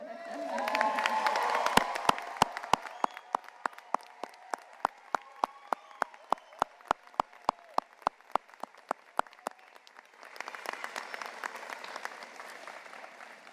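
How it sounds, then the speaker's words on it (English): Commencement audience at Salem College applauds the graduates: a full round of crowd clapping and cheers, then slow rhythmic single claps, then a second swell of applause at the end. "I think we should clap for all of them"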